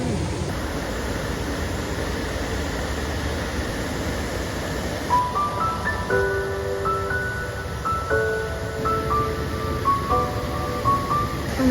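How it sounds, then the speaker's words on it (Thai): A waterfall's steady, broadband roar fills the scene without pause, while a light melodic tune of sparse plucked notes rises over it in the second half. "ตรงนี้มุมน้ำตกสวยมากทุกคน"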